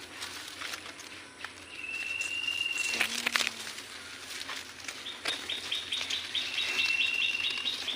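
A baby bird in its nest gives thin, high chirps, a drawn-out call then a run of quick repeated tweets, fairly faint against outdoor background rustle.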